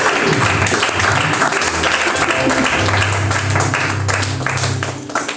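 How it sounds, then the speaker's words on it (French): A church congregation at a bishop's consecration ceremony claps and cheers louder, a dense, steady roar of applause and voices that holds strong throughout and eases slightly at the end. "acclame encore plus fort."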